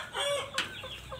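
Indio Gigante chickens kept in a simple backyard farm cluck close by in a short burst of several calls, with a faint rooster-like crowing tone mixed in and no talk.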